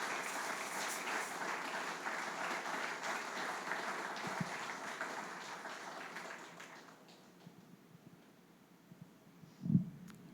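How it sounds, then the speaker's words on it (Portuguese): Loud sustained applause from a church congregation at a Sunday communion service, dense and steady for several seconds before fading to quieter scattered claps and room noise. "aplaudindo bem alto o nome do Senhor."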